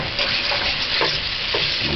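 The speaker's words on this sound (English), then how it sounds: "And just stir fry." Noodles and chicken stir-frying in a pan over medium-low heat, a dense continuous sizzle and clatter of tossing throughout, close and loud with no voices.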